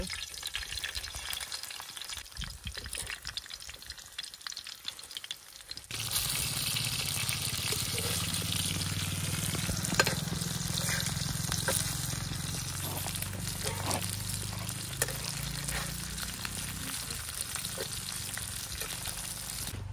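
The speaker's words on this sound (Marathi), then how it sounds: "आता आपण फ्राय करूया" Tilapia fish coated in masala and semolina fry in hot oil on a griddle over a wood-fired clay stove. A steady, dense sizzle swells loudly after a few seconds as the fish goes in, then continues evenly.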